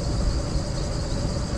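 Train rolling along in the video game Spider Horror Multiplayer, a steady rumbling rattle of wheels and carriage with a faint high whine on top, continuous and fairly close.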